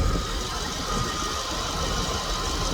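A car engine idles steadily after being restarted once fuel reaches it through the fuel pump fuse, a continuous rough rumble with faint knocking texture and no voices.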